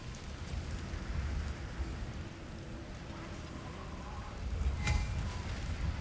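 Storm rain in the video game God of War Ragnarok, a steady, faint hiss of rainfall with low rumbling underneath and a brief sharp crackle near the end.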